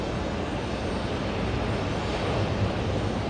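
A Boeing 787 Dreamliner taking off at JFK airport produces a dense, steady engine roar that fills the short stretch evenly, loud and continuous without any voices.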